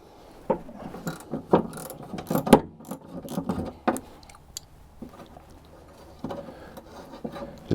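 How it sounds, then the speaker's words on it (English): Ratchet wrench loosening a taillight bolt on a Jeep TJ, giving close, irregular clicking bursts of pawl ratcheting with short pauses between strokes. "Should at least get the ratchet on there to loosen it up"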